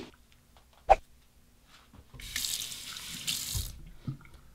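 Hot water from a sink tap running over a Henson AL13 aggressive safety razor during a shave, starting with a brief knock, then a splashing stream for a second or two, quiet and close.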